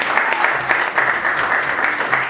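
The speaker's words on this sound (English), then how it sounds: "Please give him a round of applause." Audience applause for a guest speaker at a business talk event, loud close clapping sustained throughout the short stretch with no speech over it.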